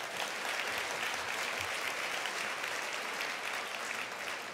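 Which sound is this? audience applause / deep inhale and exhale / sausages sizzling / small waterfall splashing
audience applause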